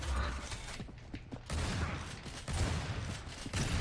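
Rapid gunfire in the video game Gears of War 3, bursts of dense shots and mechanical clatter in several loud stretches separated by short gaps.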